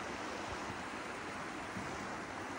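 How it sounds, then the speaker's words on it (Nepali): A river flowing just below a hotel balcony: a steady, even rush of water, loud and continuous, with no voices over it. "यहाँ खोला है मजाको खोला छ"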